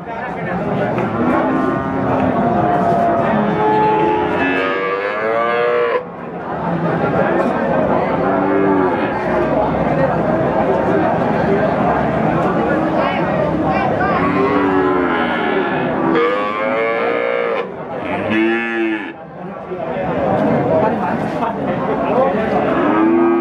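PO cattle at a livestock market moo repeatedly, loud and near, with overlapping deep calls from several animals in a busy crowd, and voices mixed in.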